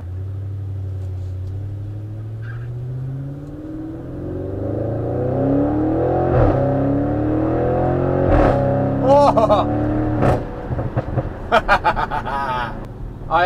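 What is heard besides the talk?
Audi RS6 730 bhp engine revving uphill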